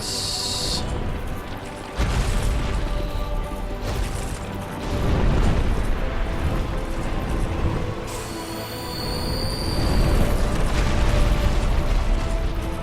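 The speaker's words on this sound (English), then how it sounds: "now he's going to breathe fire, and I can't do anything about it" A boss in Dark Souls 2's Crown of the Sunken King expansion breathes fire: loud, broad roaring gusts surge in several waves over mechanical game clatter, with no voices.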